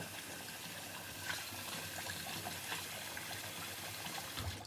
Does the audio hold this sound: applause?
no